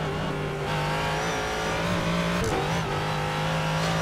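A Ford GT3 race car engine drones in the iRacing video game at Road Atlanta, a loud, steady, high-pitched hum from inside the car with a brief dip and shift as it coasts under braking.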